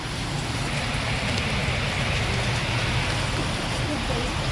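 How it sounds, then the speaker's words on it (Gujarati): Heavy downpour pouring steadily as a dense, continuous broadband wash, loud and close, with no gaps throughout. "અહીંયા દૂધ માર વરસાદ પડી રહ્યો છે"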